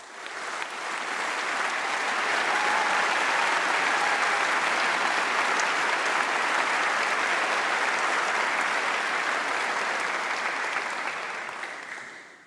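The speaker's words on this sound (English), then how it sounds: "Huge round of applause for Lucy Jordan-Cause." Sustained applause from a large audience at a university graduation ceremony, a dense even wash of clapping that swells in, holds steady for about twelve seconds and fades at the end, with no voices over it.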